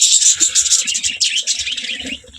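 A close flock of pet pigeons at feeding time gives continuous busy chirping and cooing, with soft pecking and fluttering underneath.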